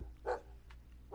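A dog barks once from inside a house in the game Dream Daddy, a single short muffled bark with faint quieter sounds after it, heard through a door.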